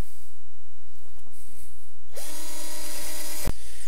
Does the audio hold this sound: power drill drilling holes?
yes